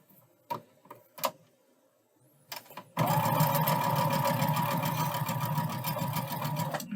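A sewing machine stitches quilt block pieces, starting after a few light clicks and handling noises, then running steadily and loudly close by for several seconds.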